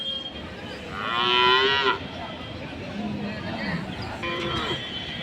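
A water buffalo at the Ranebennur cattle market lets out one loud, close moo, followed by murmuring voices and market bustle.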